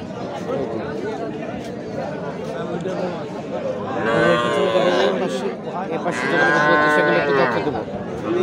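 At a busy cattle market, a young bull calf of three to four months moos twice, with loud, drawn-out calls close by over steady crowd chatter and people talking.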